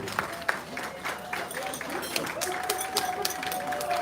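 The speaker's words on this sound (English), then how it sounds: "let's give a round of applause" Applause from an audience at a Fijian island night show at a resort, a steady patter of clapping with a few sharper claps, while a voice speaks over it.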